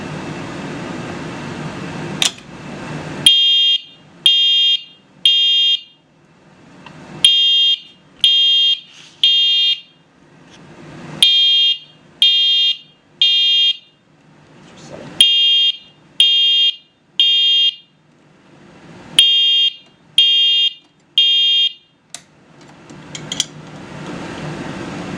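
Repeated loud electronic siren blasts from an EST Genesis G1R-HV15 horn/strobe during a test, sounding in short pulsed bursts in a steady temporal pattern, with brief pauses between groups and faint background noise.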